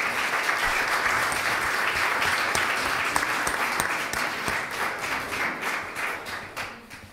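Applause from the audience at a literary prize ceremony in Nou Barris, a steady, full crowd clapping that holds evenly before gradually tapering off.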